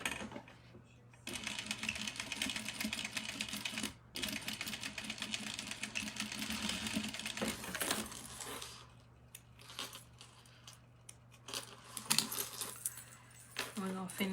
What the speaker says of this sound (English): And then sewing it down.